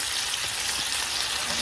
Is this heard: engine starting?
no